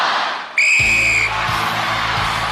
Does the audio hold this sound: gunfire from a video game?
no